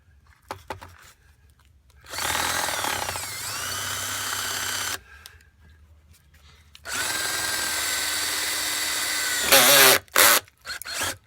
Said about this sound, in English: you're going to drill a hole with a 15/16 inch bit